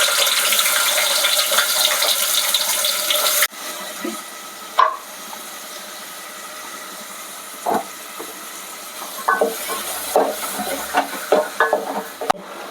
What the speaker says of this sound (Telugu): ఇప్పుడైతే ఆయిల్ వేసుకుంటున్నాను నేను చికెన్ కూర వండడానికి. ఇప్పుడైతే ఆనియన్స్ వేసుకుంటున్నాను.